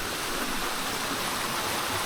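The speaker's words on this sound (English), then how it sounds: "Here we are again near the waterfall." A Japanese waterfall, Hagi Falls, roars steadily and close, with dense broadband rushing water and no speech.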